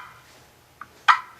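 A hand-struck turkey call imitating a hen turkey's cluck: two short, sharp notes, a faint one then a louder one, close and alone against quiet background.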